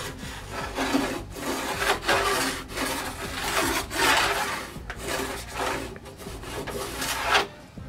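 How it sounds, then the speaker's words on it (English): A plastic scraper corner scraping wax off snowboard edges, producing repeated close, rasping strokes in a steady back-and-forth rhythm, loud and alone. "take that corner and just scrape off the wax on the edges"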